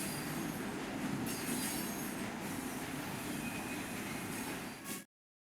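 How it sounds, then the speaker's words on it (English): Train wheels squeal and grind steadily on the rails in the video game Luna Abyss, a loud continuous metallic screech over a rolling rumble that cuts off abruptly at the end. "We have reached the end of the line where this train will terminate."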